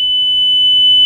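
Two sources emit the same steady 3000 Hz pure tone together in a sound wave interference experiment, a continuous loud beep that holds unbroken for about a second.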